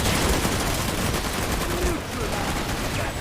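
Dense, continuous gunfire from the sci-fi shooter game Planetside 2 stays loud and close, a rapid fusillade of overlapping shots with no pauses.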